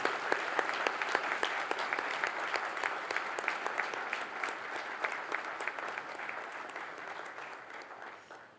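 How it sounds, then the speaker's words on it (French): An audience at a French law prize ceremony applauds a winning professor with steady, dense clapping that holds for over eight seconds before tapering off at the end, no voices over it. "Sous vos applaudissements, s'il vous plaît."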